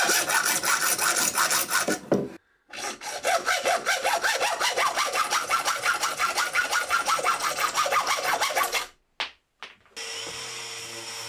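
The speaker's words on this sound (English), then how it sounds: "I left all these rods a bit long, so now I can just give them a trim off." Hand saw trimming protruding wooden rods flush on a bathroom storage build, a long run of quick rhythmic close strokes, then a brief stop, a couple of short scrapes and a quiet hum at the end.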